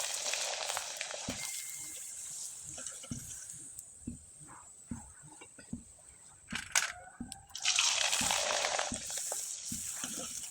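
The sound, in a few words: flower pitha frying in hot oil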